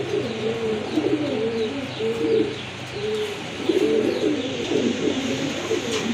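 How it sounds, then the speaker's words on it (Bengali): A pair of black nun pigeons coo close by in repeated low, rolling phrases, with faint chirps from other birds in the background. "খুবই চমৎকার কিন্তু এক জোড়া ব্ল্যাক নান কবুতর।"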